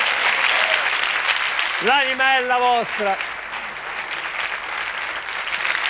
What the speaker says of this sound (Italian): Fai un altro applauso, forza.